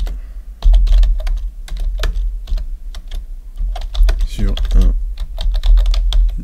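Rapid, uneven keystrokes on a computer keyboard while a test case name is entered, close and clear, with a brief burst of muffled speech partway through.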